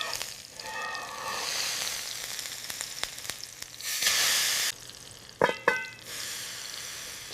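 Smashed burger patties sear and sizzle loudly on a hot surface, with a steady bright hiss that swells, then breaks into sharp spatula scrapes and crackling bursts near the end.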